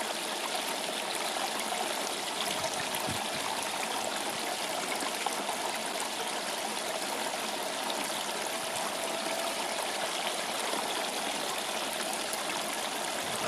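Water from a gold wash plant rushes steadily over the riffles, washing through roadside sand in a continuous, even stream with no pauses and no talking.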